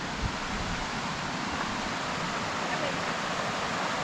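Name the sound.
flowing water of Baker Creek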